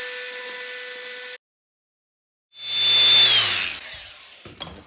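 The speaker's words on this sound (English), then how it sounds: "I'm going to scribe a line. I'm just going to grind it." An electric grinder cuts a metal bracket from a John Deere riding tractor in two loud, close bursts separated by a short silence. The second burst winds down slowly, and faint clatter follows.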